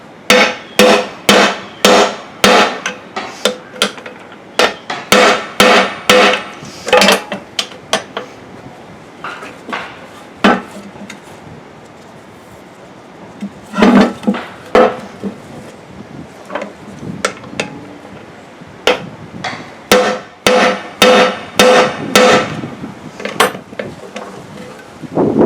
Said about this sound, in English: So then to center your driver on those seals, tap it out.